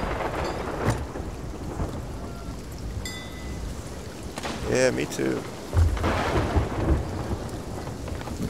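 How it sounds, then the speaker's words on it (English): A thunderstorm with heavy rain in the pirate game Sea of Thieves, on a small island beside a boat: a constant downpour with rolling rumbles of thunder, while players chat briefly on top. "It's just a storm."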